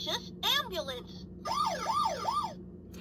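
A Vtech Go Go Smart Wheels toy ambulance plays an electronic siren, close and clear: a few quick chirps, then three rising-and-falling wails in even rhythm.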